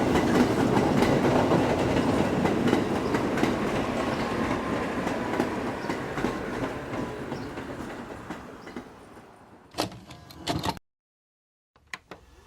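Staten Island R-44 stainless steel subway cars run past with a steady loud rumble and rhythmic wheel clatter that gradually fades, followed by a few sharp clanks and a brief dropout near the end.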